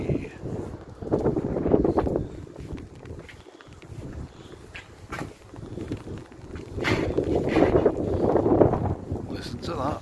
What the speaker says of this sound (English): Listen to that. That wind.